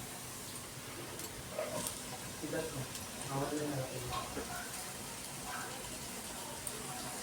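Cabbage is dropped into a pan of frying onion, a faint crackling sizzle with a few soft clatters and rustles as the shreds land and are stirred, a voice speaking in the background.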